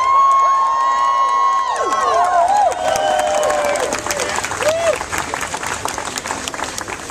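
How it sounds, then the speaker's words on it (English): A crowd at the Jobs Not Cuts rally in Washington, D.C. applauds and cheers steadily, with whistles and shouts rising over dense clapping throughout. "Give them a round of applause."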